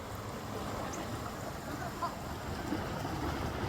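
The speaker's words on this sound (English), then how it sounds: "the river sounds extra nice." A river flows nearby, giving a soft, steady rushing wash with no clear breaks, faint and low in level throughout.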